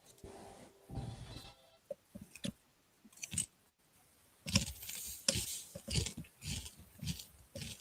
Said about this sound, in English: I'm eating Cool Ranch Doritos. I apologize if there's any crunching.